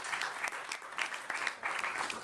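A Democratic primary debate audience applauds, giving steady, moderately loud clapping from a crowd for a couple of seconds with no voices over it.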